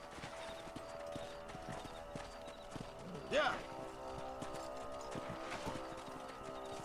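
A horse being ridden in Red Dead Redemption clip-clops in a steady rhythm of hoofbeats, with a brief whinny partway through and a voice shouting over the hooves.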